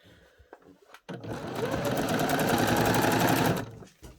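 A sewing machine stitches a gathered skirt hem in one steady, fast whirring run of about two and a half seconds, close and loud, starting and stopping abruptly, with small handling clicks before it.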